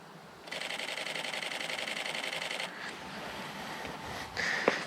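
Canon EOS camera shutter firing in high-speed continuous mode, a rapid, even burst of mechanical clicks lasting about two seconds, followed by quieter handling noises and a brief faint beep near the end.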